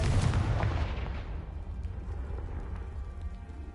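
A Confringo blasting spell in Hogwarts Legacy sets off one loud, booming explosion that bursts at once and then rumbles and crackles away into a settling tail of debris.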